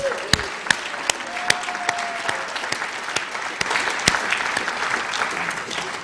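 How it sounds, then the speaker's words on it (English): A theatre audience at a speaking tour event applauds steadily for about six seconds, the dense clapping close and sustained, with a few sharper individual claps and a faint whistle or voice rising above it. "Can we give a round of applause?"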